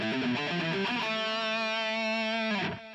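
An electric guitar with heavy distortion plays an alternate picking exercise in a natural minor pattern: quick picked notes at first, then one long held note ringing out before a fast fade at the end.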